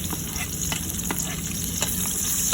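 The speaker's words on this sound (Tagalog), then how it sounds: "Tapos sa same pan, magigisa tayo dito ng bawang." Garlic sautés in a pan over medium heat with a steady, dense sizzle and crackle, close and continuous, with faint stirring scrapes and no talk.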